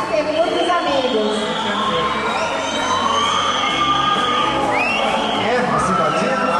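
Organized supporters cheer for a candidate at the Miss Nikkey 2010 pageant: a loud, sustained crowd roar with whoops, whistles and rising siren-like noisemakers, and a voice speaking over the din.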